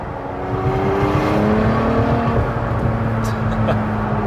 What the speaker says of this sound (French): tu as un bruit de succion un peu comme toujours chez Ferrari quand tu accélères